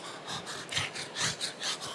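A voice imitates a dog's breathing with quick, raspy panting breaths in a steady rhythm, close and fairly quiet.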